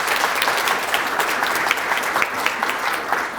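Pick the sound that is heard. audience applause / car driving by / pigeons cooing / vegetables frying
audience applause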